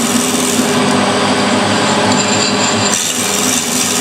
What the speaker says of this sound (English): That's conventional milling,